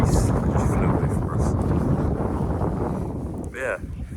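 Wind gusts buffet the microphone during a countryside dog walk in Scotland beside a sheep field, a steady low rumble filling the whole stretch, with a voice briefly heard near the end.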